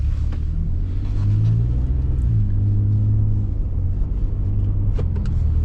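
A Ford Raptor's engine rumbles deeply while accelerating through a turn, a loud continuous low growl with rising and falling pitch as it shifts, heard from inside the cab with no talking.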